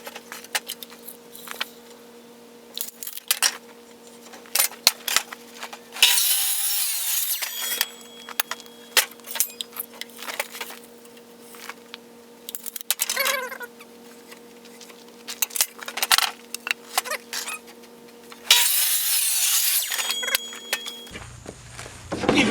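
A bandsaw cuts 2.5 inch sections, its motor humming steadily while two loud hissing cutting bursts rise and fall, with scattered clicks and knocks of handling between them and no speech.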